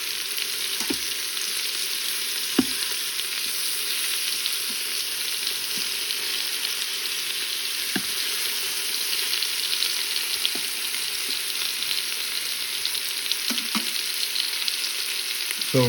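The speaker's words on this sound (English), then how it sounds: "That's why we deglaze the pans with some sort of liquid" Pork sizzles and fries steadily in an Instant Pot pan during deglazing, a dense continuous crackle with occasional sharper pops and stirring clicks, close and even throughout with no talk.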